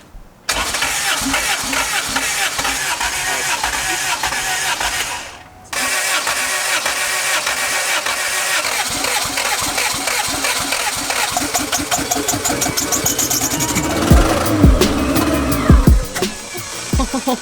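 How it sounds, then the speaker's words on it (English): A turbocharged LS engine with a VTEC head in a car cranks steadily for several seconds, pauses, cranks again and then fires up into a loud, rough, lumpy idle close by. "You're gonna have to crank it for a little bit."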